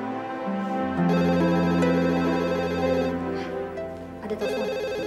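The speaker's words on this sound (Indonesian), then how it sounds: "Ada telepon." A telephone rings with a steady, sustained electronic ringtone for several seconds at moderate loudness, with a brief faint voice near the end.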